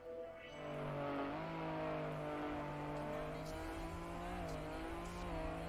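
Old cars racing on a Winter 2026 campaign map in a racing video game: a loud, continuous engine drone that holds steady with small pitch dips and rises, without any talk.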